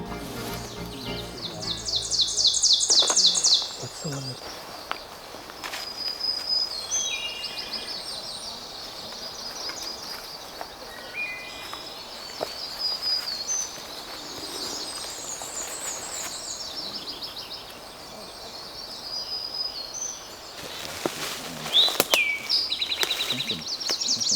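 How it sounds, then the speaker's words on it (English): Tanagers, towhees and warblers sing and chirp outdoors in a conservation area, with bright, varied high-pitched phrases and trills over a quiet background of occasional rustling. "Tanagers, towhees, and of course warblers of all kinds. Take a listen."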